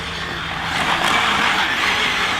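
A ZD Racing EX-07 RC drift car running on a 4S battery slides around with a loud, rushing whine of its electric motor and tyres that swells slightly, close and continuous without speech.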